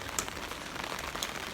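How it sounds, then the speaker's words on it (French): Heavy rain pours down steadily, a dense continuous hiss of drops drumming on surfaces with a few sharper splatters, with no voices. "il pleut à torrent, c'est horrible"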